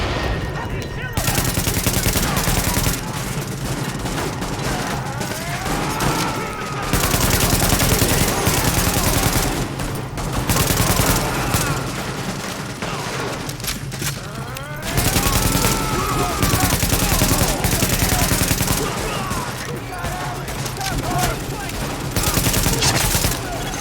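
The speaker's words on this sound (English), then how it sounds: "The escort party's taking heavy fire from the roof." Heavy automatic gunfire from a rooftop gunner in The Division, long loud sustained bursts of rapid shots with brief pauses between volleys and whizzing sweeps overhead.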